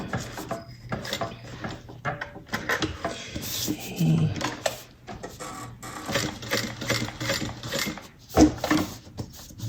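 Sewing machine stitching a Jasmine bag runs close and loud in uneven bursts, slowing and pausing briefly as it works around curves, with no talk over it.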